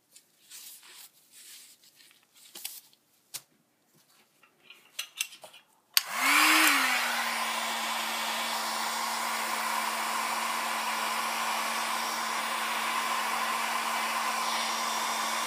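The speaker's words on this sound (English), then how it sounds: "So I ordered that new heat gun because I wanted a heat gun that actually I can control the temperature." A heat gun roars on abruptly and blows steadily on clear coat resin, a loud continuous airflow hiss with a steady tonal hum, following a few seconds of quiet handling noises and small knocks.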